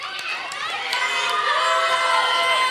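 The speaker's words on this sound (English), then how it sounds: "I need y'all to give all of the volunteers a big thank" A crowd of children at a summer creative kids' camp cheers and claps for the volunteers, a steady, lively mix of shouting voices and applause filling the room at moderate loudness.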